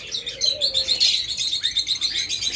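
A pair of blue mask lovebirds chirps continuously in dense, rapid tweets, close and lively, with a steady chattering rhythm and no talking.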